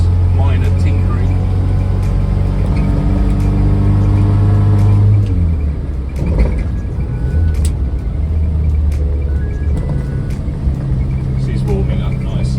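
A Mini car's engine warms up, a loud steady low rumble that drops to a rougher, lower idle partway through, with occasional ticks and a faint higher tone.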